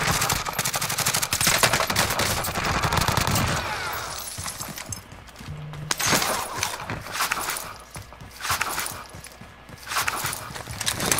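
Gunfire from Call of Duty: Modern Warfare, dense rapid bursts of shots through much of the passage, loud and close, with quieter gaps between volleys and little talk over it.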